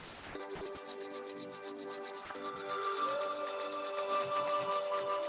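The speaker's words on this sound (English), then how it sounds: "rub your palms again" Palms rubbed briskly together during a group meditation and breathing session, a fast rhythmic series of dry swishes, close and steady, over a sustained tonal background.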